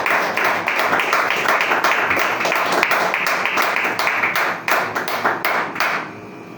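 A church congregation at a Spanish-language service bursts into applause, with dense, rapid clapping that stays loud throughout and thins out only near the end.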